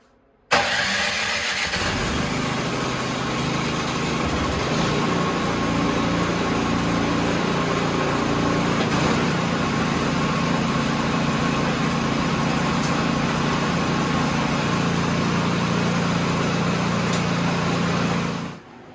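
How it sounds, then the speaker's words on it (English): A Cub Cadet / MTD snowblower engine catches after a brief crank and runs loudly nearby with a steady, slightly uneven buzzing drone, sounding a little rough, until it cuts at the end. "Engine's still kind of running a little dodgy in my opinion"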